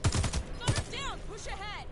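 Enemy gunfire in the shooter video game Warface rattles in two quick bursts of shots near the start, then gives way to voices talking over steady background noise.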